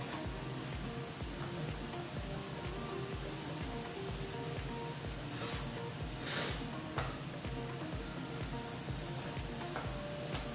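Steady, dense sizzling of food frying in a hot pan, crackling and spitting continuously at a close, even level with no talking.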